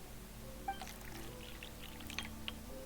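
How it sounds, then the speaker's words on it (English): Drink poured into cups in the video game Genshin Impact, a faint, quiet pouring trickle under a low hum, with a few light clinks and no speech. "Pour me a drink."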